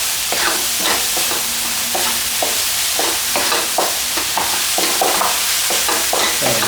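Salt and pepper squid seasoning mix with sugar being stirred, a steady run of scraping, gritty strokes over a constant hiss, close and fairly loud with no talking.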